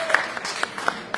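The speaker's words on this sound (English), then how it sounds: "give yourselves a big round of applause for showing love" Audience applause at a hip hop 50th anniversary celebration event, a short burst of scattered clapping from a crowd, moderately loud.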